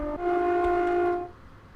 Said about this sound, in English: That horn does not sound like a 319 horn.